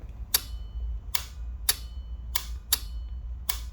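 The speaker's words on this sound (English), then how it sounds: "You can hear my relay switch coming on." A relay switch on a 1983 Suzuki GS1100E motorcycle clicks six times in a loose, uneven rhythm over a low background hum, each click crisp, close and brief.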